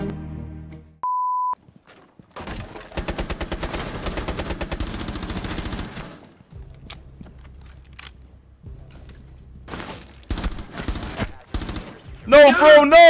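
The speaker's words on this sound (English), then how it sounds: "Just shooting at a body, dude." Gunfire in Rainbow Six Siege: a beep, then long rapid bursts of automatic shots, followed by scattered single shots and short volleys, with voices talking at times.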